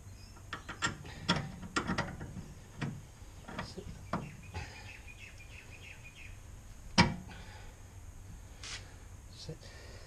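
Metal clicks, ratchet-like clatter and a sharp knock come from fitting a bolt into an MGB front suspension during a rebuild, close but quiet, with faint birds in the background and no talk.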